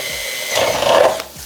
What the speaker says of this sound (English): Now I'm just gonna drill through.